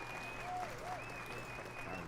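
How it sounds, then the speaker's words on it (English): A small podcast audience gives a short, quiet round of applause, faint and steady, with a bright electronic tone gliding over it. "shout out, round of applause."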